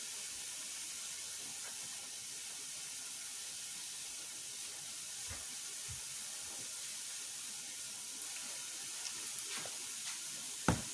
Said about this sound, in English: So I'm gonna saute those, and I'm gonna add the powder seasoning